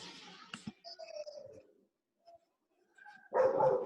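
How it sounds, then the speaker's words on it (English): Dogs bark outdoors in a few short, sharp bursts, the first around the half-second mark and a louder cluster near the end, with quiet gaps and faint background sounds between. "You guys hear those dogs?"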